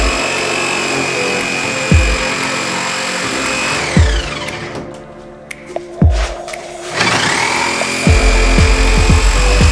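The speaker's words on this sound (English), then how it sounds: "learning how to put a blade in a reciprocating saw" A reciprocating saw cuts during a Victorian home renovation, its loud, harsh buzzing running for several seconds, breaking off into a quieter pause with scattered knocks, then starting up again, with sharp thumps throughout.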